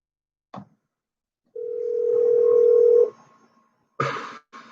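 Telephone sounds while placing a call: a click, then a steady dial tone lasting about a second and a half, followed by short bursts of dialing tones near the end, clear with no talk.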